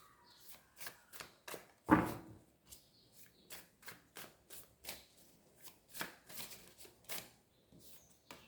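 Tarot cards are shuffled by hand in soft, rhythmic riffles and taps, close and quiet, with one sharper slap early on and no voices.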